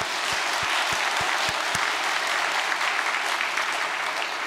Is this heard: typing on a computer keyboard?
no